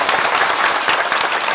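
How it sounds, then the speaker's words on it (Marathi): Brisk applause rings out for villagers at a Marathi kirtan, a dense, steady burst of many hands clapping together, close and fairly loud. "एकदा सुरुवातीला जोरदार टाळ्या ग्रामस्थांसाठी झाल्या पाहिजेत"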